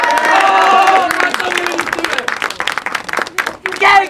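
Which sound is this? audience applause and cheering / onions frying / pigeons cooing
audience applause and cheering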